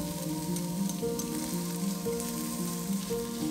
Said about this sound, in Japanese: フライパンに大さじ1のオリーブオイルを入れ、にんにくを入れて玉ねぎを入れます。